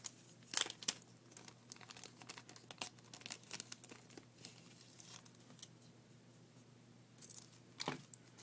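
Plastic wrapping around an MF3RS speed cube sticker set crinkles and crackles as it is opened, a quiet, close, irregular stream of soft rustles and sharper crunches, with no voices.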